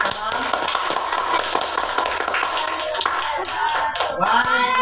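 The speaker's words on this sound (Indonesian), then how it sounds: "tepuk tangan Bapak sama-sama." Hand clapping from a group in a classroom lesson, a run of claps with rhythmic taps, talk and voices mixed in toward the end.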